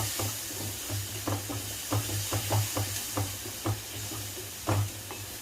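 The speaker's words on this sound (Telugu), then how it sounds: "ఇవి కొంచెం బాగా తిప్పుకోనండి, కొంచెం సేపు మూత పెట్టి కొంచెం బాగా ఫ్రై కావాలి" Salted tomatoes fry in a pan with a constant soft sizzle and low hum, while a spoon clicks and scrapes at irregular intervals, and no one speaks.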